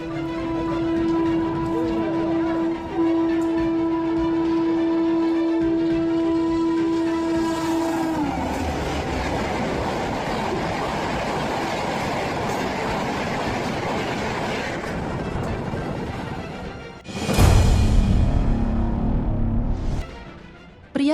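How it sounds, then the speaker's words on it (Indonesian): High-speed train rushing past beside a railway crossing, opening with a sustained horn blast over a steady loud roar and rattle of passing cars, then a sharp louder whoosh near the end. "kereta dengan kecepatan tinggi melesat di sebelahnya"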